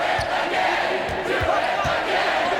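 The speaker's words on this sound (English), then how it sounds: "the crowd is buzzing after that sequence" Crowd noise from the NBA 2K25 basketball video game fills the arena with a loud steady roar and buzz, with a few ball bounces thudding through it.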